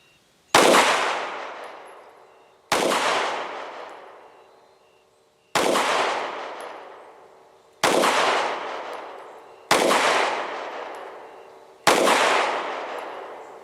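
Six loud, sharp gunshots from a Kel Tec P-15 pistol are fired one at a time at an uneven pace. Each crack decays into a long ringing outdoor echo before the next shot.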